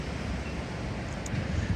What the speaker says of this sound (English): here comes a good gust